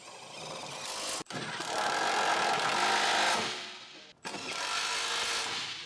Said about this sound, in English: Using the 18mm deep socket with the electric impact wrench, tighten the skid plate bolts